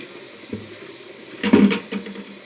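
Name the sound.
water being dumped into a sink from Frankford Arsenal wet tumbler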